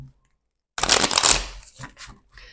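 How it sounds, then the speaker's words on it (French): Oracle cards being shuffled by hand during a tarot-style reading, a close, crisp burst of riffling and sliding card noise after a brief silence, fading into a few softer shuffles. "On va prendre les cartes avec l'oracle de Béline"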